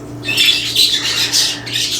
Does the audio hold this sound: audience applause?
no